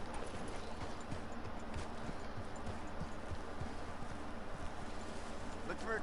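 Horse hooves clip-clopping steadily on the ground in the Western video game Red Dead Redemption, a faint, even rhythm under low ambient noise and quiet voices.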